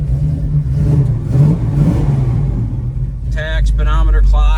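A 1970 Chevelle 396 with a 4-speed idles with a deep, rumbling burble under nearby talking, then the V8 revs sharply in a couple of rising bursts.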